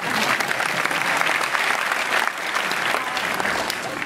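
A live audience applauds loudly and steadily at a Disney and Qualcomm partnership presentation, a dense wash of many hands clapping that fills the whole stretch without pause.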